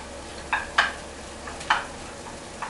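Potato and onion sautéing with garlic in a pan give a soft, steady sizzle, broken by several sharp stirring scrapes and clicks spaced about a second apart.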